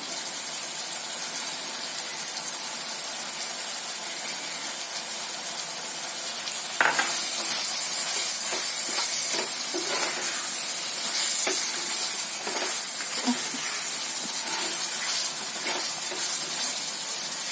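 Mutton bhuna masala fries in oil in a pan, giving a steady, loud sizzle with bubbling throughout and occasional stirring scrapes and clinks near the end.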